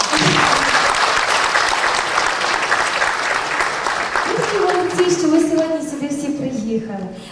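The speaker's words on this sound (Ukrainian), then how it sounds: "Оплески вам!" Audience applause at the tenth Povir u sebe arts and crafts festival, sustained clapping from a crowd that fades as a sustained tone rises in the later seconds.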